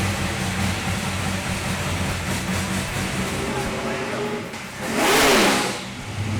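A Pikes Peak hill climb race car idles with a steady, rough engine drone, then gives one sharp rev that swells loudly and falls away near the end, heard close up with no voices.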